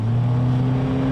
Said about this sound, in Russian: рассекая гладь Чигиринского водохранилища на мощной моторке